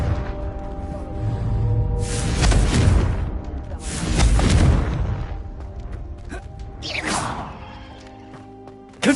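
Confringo fire spell explosions in Hogwarts Legacy, heard as two loud whooshing booms a couple of seconds apart, then a sharper swooshing burst, each decaying into low rumble, with no talking.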